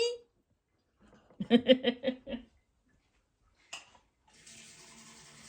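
Water runs from a kitchen tap into a pot of chili for about a second near the end. It is a soft, steady hiss that follows a short burst of laughter and a brief clatter.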